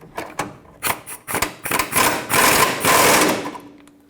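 Ratcheting clicks and metallic tool sounds from snugging front lower control arm bolts on a 2012-2019 Fiat 500, starting as sparse clicks and building into fast, steady ratchet bursts, close and fairly loud.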